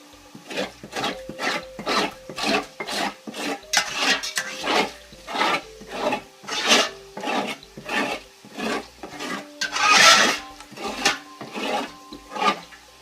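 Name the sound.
scraping the bottom of a pot of beef stew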